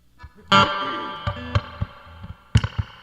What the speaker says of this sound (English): Turn up the reverb a little bit, and just a tiny bit